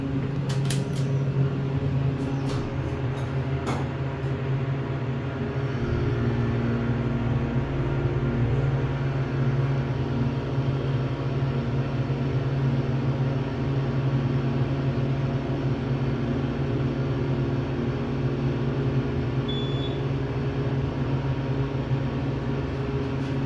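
An added-on hydraulic entrance elevator at Weller Hall, Hofstra University, runs with a steady low motor hum and drone that continues as it slowly levels, with a few early clicks and a dip in pitch partway through, close and unbroken, no talk.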